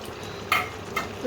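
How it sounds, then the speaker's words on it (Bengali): A spoon stirs grated paneer into a jackfruit curry in a pan, soft scraping and sizzle with two brief louder strokes, close and short. "পনিরটা দিয়ে ভালো করে মিশিয়ে নিতে হবে।"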